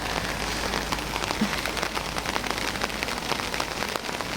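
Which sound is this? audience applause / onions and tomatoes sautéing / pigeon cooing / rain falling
rain falling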